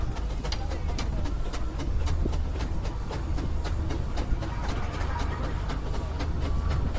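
A Cornish steam engine in immaculate condition runs at the West of England 70th anniversary steam rally, a steady mechanical clatter with regular rhythmic clicks beating over a constant low rumble, close and continuous.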